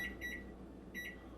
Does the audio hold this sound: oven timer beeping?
yes